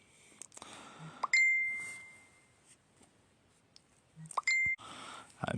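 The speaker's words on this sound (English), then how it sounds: "I apologise for my phone going off then when I was getting quite serious." A phone notification chimes twice, each a short clicky chirp followed by a bright sustained ding that fades away, with light tapping and handling noises between the alerts.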